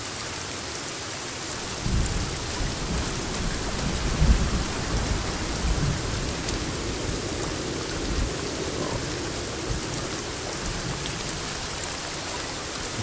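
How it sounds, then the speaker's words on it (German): Steady heavy rain pours in the video game Sons of the Forest, with low rumbles of thunder rolling through a stormy forest; a continuous wash of sound with no talk. "Schöner Regen."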